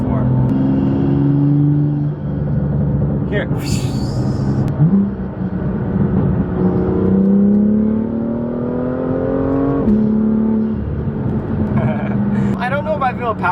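A Porsche GT4 accelerates with a loud, rising engine drone that climbs in pitch through several gear changes, with intake noise over the engine and a person speaking briefly over it.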